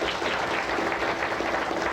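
Audience in a sales seminar room applauding in response to a show-of-hands question, a steady dense clatter of many hands clapping throughout, fairly close and even in loudness, with no talk over it.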